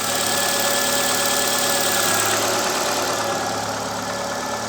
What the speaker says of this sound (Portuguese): Esse batido, pessoal, é saia de pistão, tá?